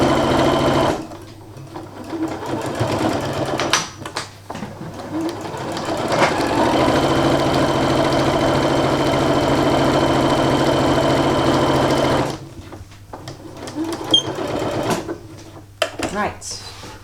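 A sewing machine stitching a fabric bag runs in a long steady whir lasting about six seconds. Shorter starts, stops and handling knocks come before and after it, and the machine is loud and close with a voice talking at times.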